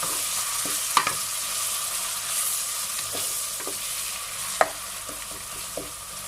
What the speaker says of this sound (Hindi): अब इन दोनों को हम फ्राई करेंगे अच्छे से।